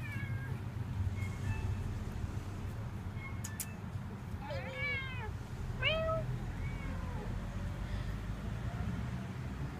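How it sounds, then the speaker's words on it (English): A friendly outdoor cat meows twice, clear and fairly close, over a steady low rumble of background noise. "Today I'm thankful for this kitty."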